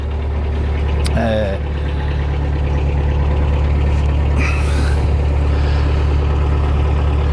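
A narrowboat's steady, loud engine drones close by throughout as it is revved, with a brief squeal and some hiss over the rumble.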